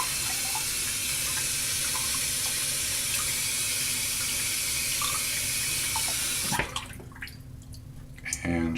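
Warm tap water runs steadily through the knot of a shaving brush, a loud continuous hiss and splash that cuts off abruptly near the end, leaving quieter drips and handling sounds.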